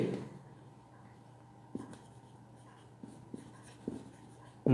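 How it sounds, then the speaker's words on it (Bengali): Pen or marker writing out a grammar rule on a board during an English class, a steady scratchy stroking with a few sharper taps, fairly close and alone with no voices. "আমি নিয়মটি লিখছি"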